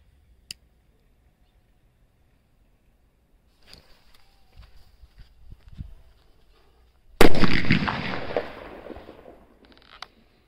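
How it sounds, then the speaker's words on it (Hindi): After a few quiet seconds and small crackles, a mini bullet bomb firecracker bursts out in one sharp, loud blast, followed by a fading crackling rumble and a last small pop. "क्या शानदार और जोरदार धमाका था हमारा जो मिनी बुल्ट बम था"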